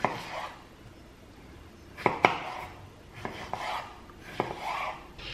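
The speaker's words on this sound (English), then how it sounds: "Also going to cut up an orange for the side." A knife chops an orange on a board in a home kitchen, giving several sharp, close knocks in small clusters with quiet gaps between them.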